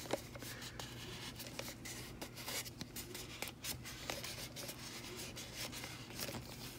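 Adhesive vinyl being peeled from its backing during a water-bottle craft, a close, quiet run of crackling rubs and small scratchy bursts lasting several seconds, with no voices.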